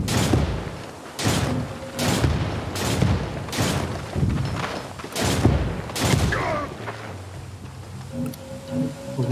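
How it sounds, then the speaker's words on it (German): Gunfire in Ghost Recon Breakpoint, a string of loud, sharp shots fired in an even rhythm about once a second over a constant outdoor background. "Schüsse in der Nähe versteckt."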